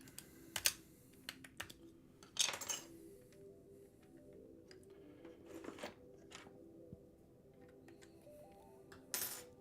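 Sparse keystrokes and clacks on a Yunzi AL71 custom mechanical keyboard with a slightly metallic ring, scattered irregular taps, faint and close, no talking.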